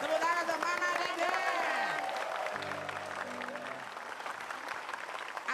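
A studio audience claps and cheers in a sustained burst of applause that gradually thins out, with voices and a brief musical tone mixed in underneath.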